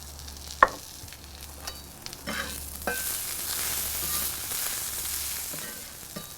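Onions frying with a little sugar for caramelizing in a pan, a soft steady sizzle with occasional scrapes and clinks of stirring, the hiss growing louder partway through.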